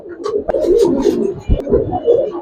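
Low, throaty cooing from a male pigeon close by, a soft rolling coo repeated over a couple of seconds with faint rustling and chirps around it.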